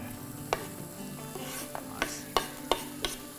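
Onions frying in a little oil in a large pan give a soft, quiet sizzle, broken by a handful of sharp scraping stirs from a utensil against the pan.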